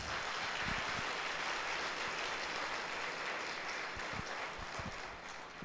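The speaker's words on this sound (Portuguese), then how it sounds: "Dá um aplauso ao Senhor Jesus." A church congregation applauds during a Sunday worship service, the clapping blending into a soft, distant, steady wash of sound that fades slightly at the end.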